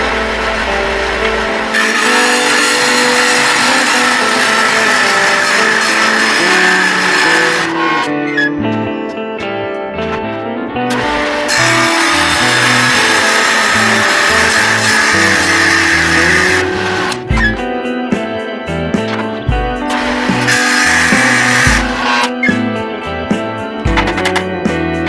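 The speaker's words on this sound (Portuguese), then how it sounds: "vocês viu aí como é que é perigoso o negócio de usar policorte" An abrasive cut-off saw cutting a tube, loud and close, with a high grinding whine that runs in long stretches and stops abruptly several times as the blade binds.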